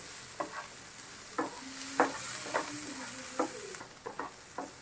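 Onion and green chili sauté in oil with a soft background sizzle, broken by rhythmic scrapes and taps of a spatula stirring the pan, quiet and close.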